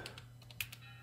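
Quiet clicking on a computer keyboard as a web search is typed, several separate keystrokes in an irregular quick rhythm, close and faint, with no speech.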